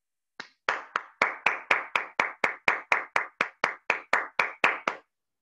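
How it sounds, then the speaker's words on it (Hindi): A small group claps in unison after a guided meditation session, about sixteen sharp, evenly spaced joint claps in a steady rhythm, close and clear against silence. "आज के इस अद्भुत ध्यान के लिए हम एक बार जोरदार तालियां मारेंगे।"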